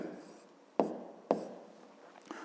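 A pen or marker writes a math solution, making soft scratchy strokes with a few sharper taps, quiet and close.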